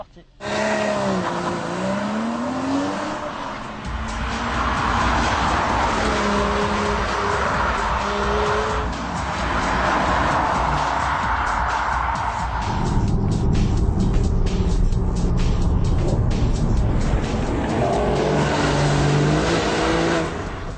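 A 2013 Porsche Cayman S being driven and accelerating, its engine note rising and shifting through gears loud and close from inside the car, with someone talking over it.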